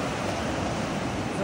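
Pacific Ocean surf at a beach: a steady, loud broadband wash of breaking waves with some wind rush, constant throughout with no distinct individual breakers.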